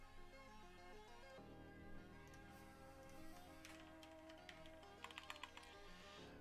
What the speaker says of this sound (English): you guys are hearing a lot of typing because I'm writing a message in the Discord